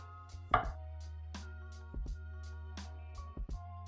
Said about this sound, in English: slice up your avocado